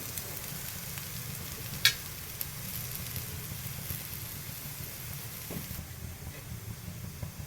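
A besan dhirde, a gram flour pancake, roasts on a hot pan with a soft, steady sizzle and one brief sharp tick, with no voices.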